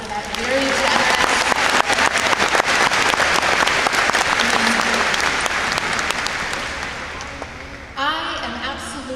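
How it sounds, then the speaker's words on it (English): A crowd at a high school commencement ceremony claps steadily in sustained applause, loud and close, gradually thinning out toward the end as a voice begins to speak. "a round of applause for that very generous"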